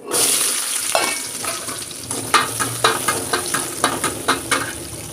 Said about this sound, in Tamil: வெங்காயமும் பூண்டும் போட்டு நல்லா பொன்னிறமாக வர வரைக்கும் வதக்கணுங்க.